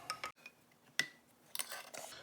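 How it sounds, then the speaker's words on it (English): Can of G2 ceramic brake caliper paint being pried open: faint, close metallic clicks and scrapes, a few sharp taps and a light rattle over a quiet background. "So I want to pop this can open"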